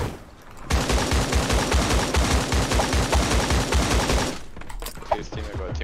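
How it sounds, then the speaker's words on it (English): Rapid bursts of automatic gunfire in the video game Creative Destruction, a dense rattling volley lasting several seconds, loud and close, followed by a few scattered shots. "Shoot them, Don, not the ramp."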